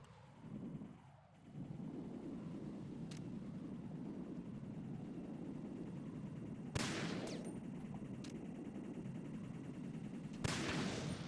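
Gunfire in a Metal Gear video game: two sharp, isolated shots stand out, one near the middle and one near the end, over a steady mechanical rumble, all faint and distant-sounding.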